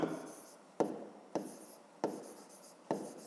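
Pen strokes on paper while a math answer is written out, a run of five short scratchy bursts, each starting with a tap and trailing off, quiet and close with no voice.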